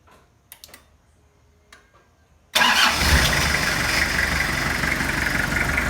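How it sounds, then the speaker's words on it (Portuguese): A Toyota Hilux engine cranks and starts after a few quiet clicks and taps, catching abruptly and settling into a loud, steady idle close by, with no talking. "vou ligar o carro pra gente ver se vai funcionar legal"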